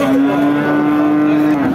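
A cow with her calf at a cattle market lets out one long, loud, sustained moo close by, with faint crowd noise underneath.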